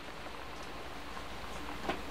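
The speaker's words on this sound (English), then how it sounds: "Sounds like rain." Steady rain patters continuously at a moderate level, with a brief slightly louder splash near the end and no voices.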